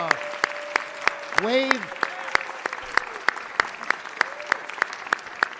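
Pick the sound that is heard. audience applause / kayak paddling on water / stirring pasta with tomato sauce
audience applause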